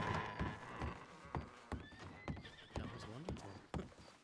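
Horses in the Red Dead Redemption 2 game clip-clop with uneven hoof strikes and let out rising whinnies and neighs, fairly close and varying in loudness, while voices talk over them.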